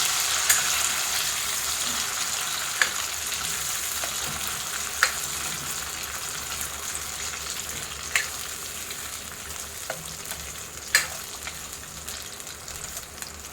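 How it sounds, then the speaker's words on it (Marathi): Potatoes fry in oil for dhaba-style dum aloo, giving a steady, close sizzle that runs unbroken throughout, with a few sharp pops and clicks scattered over the hiss. "चांगल्या तेलामध्ये असं फ्राय करून घ्यायचं"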